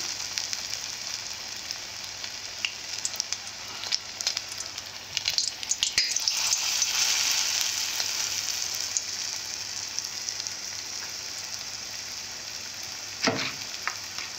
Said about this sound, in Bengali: আপনারা এইভাবেই ভেজে নেবেন।